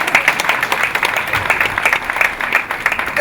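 Audience applauding the president of the Belgian Chamber of Côte d'Ivoire at an NGO event, a lively, fairly loud patter of many hands with distinct individual claps throughout.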